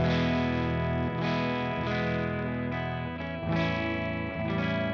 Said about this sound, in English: The first is going to be your stock setting, which is just a clean preamp boost.